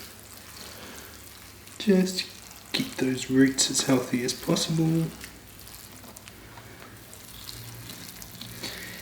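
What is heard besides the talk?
watering a newly planted juniper bonsai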